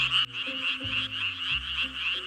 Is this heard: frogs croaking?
yes